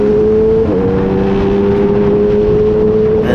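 A loud Honda CBR650 four-cylinder motorcycle engine drones at high revs close by, its pitch holding steady with a slight dip and recovery, no voices over it.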